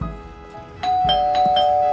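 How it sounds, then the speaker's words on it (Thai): A house doorbell sounds in a quick series of bright chiming tones, followed by a sustained ringing tone that lingers to the end, close and clear with no talking. "เฮ้ยใครมากดออดที่บ้านเนี่ย"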